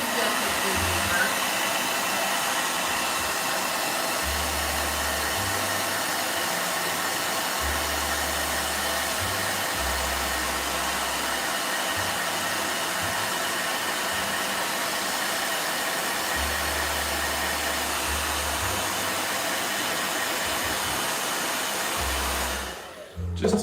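A hair dryer runs steadily on gouache paint, a loud continuous whoosh that lasts about twenty-three seconds and then cuts off abruptly at the end.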